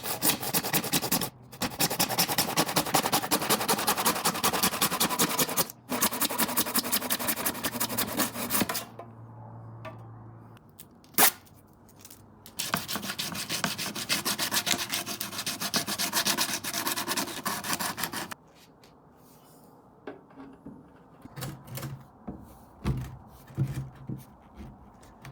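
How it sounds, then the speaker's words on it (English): A 2-inch PVC pipe is cut to length with a hand saw, giving loud, steady rasping strokes in long runs with brief pauses, then a quieter stretch of lighter, scattered scraping near the end. "And now I'll measure and cut some 2-inch PVC pipe to length"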